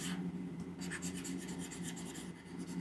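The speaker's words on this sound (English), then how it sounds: "Probably sounds like I'm drawing on a piece of paper with a marker. But that is my stylus on my tablet." A stylus scratches across a graphics tablet in quick, repeated rasping strokes, close and soft, with brief pauses between bursts of rubbing.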